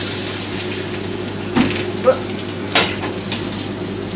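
Duck fat renders and sizzles steadily in a pan over a medium flame, a continuous crackling hiss with a few sharp clinks of a utensil against the pan.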